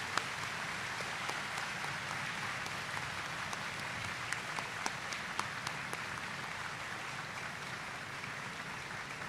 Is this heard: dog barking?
no